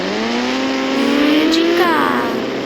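A scooter engine in a racing video game drones steadily, its pitch climbing through a rising whine and briefly revving higher near the end, loud and continuous with no voices.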